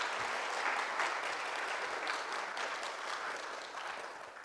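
A congregation-style audience claps warmly and continuously, a full, even roar of hands that eases off slightly near the end.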